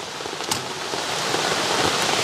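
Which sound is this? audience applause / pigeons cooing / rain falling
rain falling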